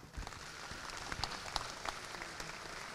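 A small audience at a coastal day panel claps, quiet and somewhat distant, with scattered individual claps standing out over a soft, steady patter.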